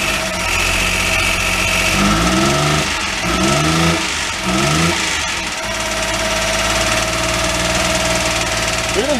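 A clapped-out Daihatsu mini truck with a blown engine idles roughly and steadily throughout, loud and close, with a few rising engine whines over the constant rumble.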